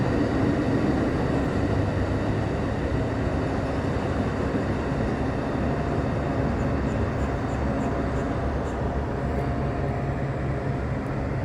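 An Amtrak passenger train passes through Lakeland North with a loud, continuous rumble and roar of wheels and cars. The sound holds steady for several seconds with no horn.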